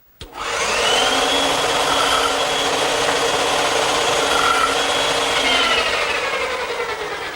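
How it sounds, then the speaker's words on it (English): A bandsaw cuts wood to remove waste and form a tenon for a standing mirror, with a loud, steady, close-up whine and rasp that starts abruptly and holds for several seconds with no talk. "the bandsaw is a good choice to remove the rest of the material to form the tenon"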